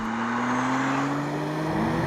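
A sports car engine, BMW M2 or Audi RS3, holds a loud, high-pitched rev that climbs slowly and steadily over two seconds, close and continuous with no talking.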